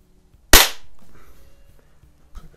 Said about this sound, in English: these pellet guns both shoot these pretty darn nice